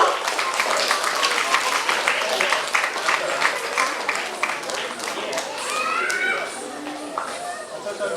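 A crowd claps at a tenth-anniversary ceremony of a dance and music trust, a dense, sustained patter of many hands close by that continues while a voice speaks over it toward the end.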